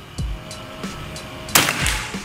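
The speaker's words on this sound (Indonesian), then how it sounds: "Ini tembakan ketujuh ya" A PCP air rifle, a Bocap Escobar, fires a long-range shot onto a steel target board, giving a sharp metallic crack with faint knocks before it and a brief ring after, heard alone.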